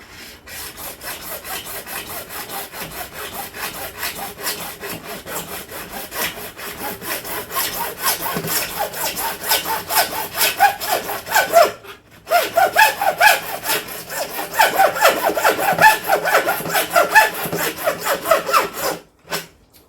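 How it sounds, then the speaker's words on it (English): A hacksaw with a dulling blade cuts through wood while building a garden tower, a steady rhythmic back-and-forth rasp that grows louder midway, pauses briefly, then resumes before stopping. "Make sure that your hacksaw is sharp."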